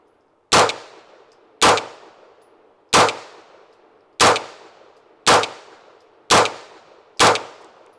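Seven pistol shots from a Brigade BM-9, each followed by the bright clang of a round striking a steel target, spaced about a second apart and ringing briefly before the next shot.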